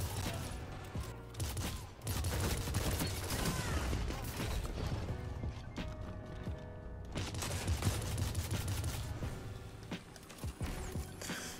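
Sustained automatic rifle fire in Destiny 2, a dense run of rapid shots with mechanical clatter filling most of the stretch, broken by a brief lull before the bursts resume.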